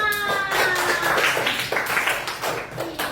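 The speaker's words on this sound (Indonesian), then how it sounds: "Tepuk tangan untuk Nak Ilham." Students in a classroom clap for a classmate, a brief patter of many hands at moderate volume, with a faint tonal sound lingering early on.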